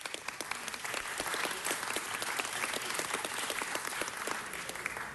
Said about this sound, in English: give firefighters a round of applause.